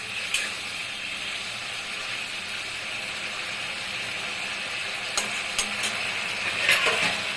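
Goat liver and spices fry in a pan with a soft, steady sizzle and a few brief scraping clinks of the spoon toward the end, fairly quiet and close, with no talking.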